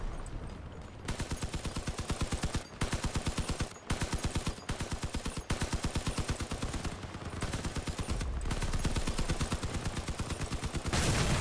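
Vehicle-mounted guns in the Crossout game fire repeated bursts of rapid machine-gun fire, loud and continuous, broken only by brief pauses.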